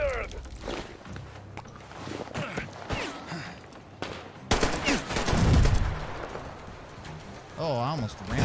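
Gunfire in the Metro Exodus video game, with several bursts of shots and sharp bangs mixed with footsteps and other game sounds, and a voice shouting over part of it.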